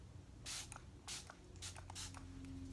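A MAC Fix Plus setting spray misted onto the face in several short bursts, close and fairly loud, with brief pauses between sprays and no talking.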